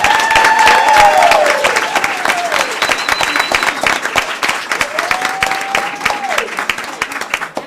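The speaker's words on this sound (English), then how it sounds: "we clap for our athletic teams" An audience at a school board meeting claps for athletic teams, a steady round of applause from the crowd with some voices talking and whistling over it as it slowly fades.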